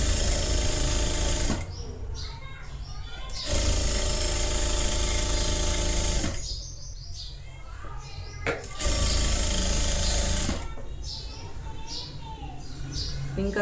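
A sewing machine stitching a straight line along a blouse dart, running in loud steady bursts that alternate with quieter pauses where fabric is handled and someone speaks.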